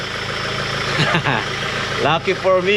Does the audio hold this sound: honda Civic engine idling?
yes